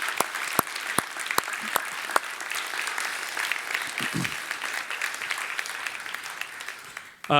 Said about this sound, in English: I'd like to acknowledge them with a warm round of applause